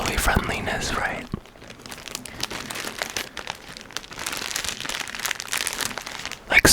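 Plastic packaging crinkles and rustles while jewelry supplies are unboxed, with close, dense crackling throughout and a brief quiet gap near the start, under a soft, low voice.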